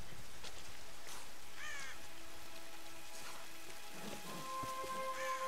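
Steady rain falls on the ground in the Tomb Raider 2013 game while ravens caw several times, harsh calls standing out over the constant patter.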